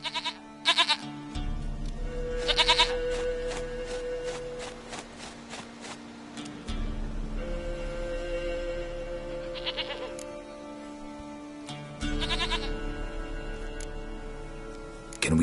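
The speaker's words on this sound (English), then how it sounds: "Goat of mine, dearest, sweetest goat." A goat in The Witcher 3: Wild Hunt bleats in short, wavering cries, repeated several times with pauses between, fairly clear against a quiet game backdrop.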